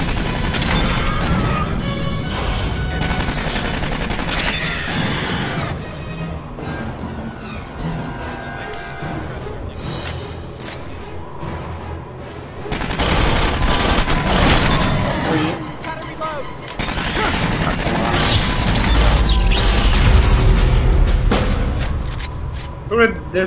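Gunfire and explosions from the Aliens: Colonial Marines video game, with a smart gun firing in loud, dense bursts of shots and booms that swell and ebb over the whole stretch, with voices at times.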